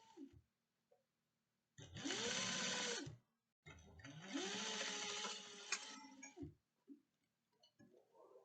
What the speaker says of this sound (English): definitely back stitch a couple stitches because it's always good to back stitch